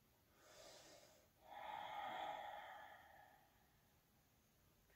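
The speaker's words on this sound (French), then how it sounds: "Et ça respire." Near, quiet breathing from a person doing yoga: one short breath in, then a longer, heavier breath out through the nose, with near silence around it.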